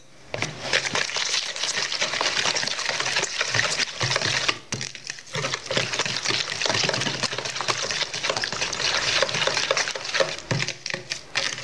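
Sugar and cocoa being mixed together for crème caramel, with a steady, close scraping and clinking of a utensil against a bowl that runs throughout and pauses briefly in the middle.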